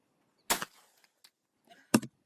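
A shotgun is fired one-handed in two sharp, loud blasts about one and a half seconds apart, each with a short ringing tail, and faint clatter in between.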